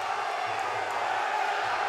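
A steady, dense roar from the crowd at an MMA fight between Anthony Mineo and Aden Haddad Salah, sustained and undiminished throughout, with faint voices mixed in.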